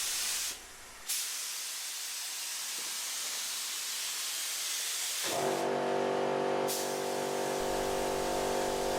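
A spray gun lays a thinner second coat of 2K paint over a car's bonnet and wings, giving a steady close hiss with one brief break early on, then a louder tonal hum joining later.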